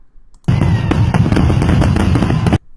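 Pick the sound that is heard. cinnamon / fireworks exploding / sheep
fireworks exploding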